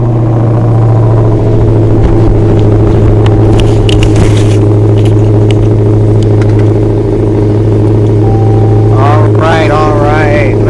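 A stock 6.2-liter car engine idling with a deep, loud, steady rumble, plus brief crackles and a few whiny tonal squeals near the end; voices talk under it.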